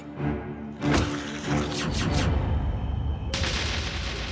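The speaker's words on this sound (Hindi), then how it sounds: "इतना कहकर मार्था ने तुरंत गोली चला दी।" A gunshot sound effect in a horror story about a cursed nun, with loud, close blasts followed by crashing, shattering noise and a rumbling tail.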